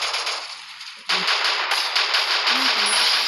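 Gunshots in the Free Fire video game: a quiet stretch, then a sudden loud burst of rapid gunfire that keeps going as a dense rattle to the end.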